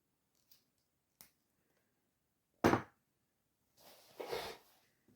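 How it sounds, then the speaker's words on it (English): Scissors cutting heat shrink tubing during electronics assembly, a few sharp, faint snips spaced apart, then a louder crisp cut and a brief rustling handling noise in a quiet room. "Scissors."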